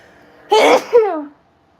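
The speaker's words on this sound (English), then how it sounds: "Uh-oh, I'm going to sneeze." A single sharp sneeze in two parts, a quick in-breath then a loud burst, close to the microphone in an otherwise quiet room during a painting livestream.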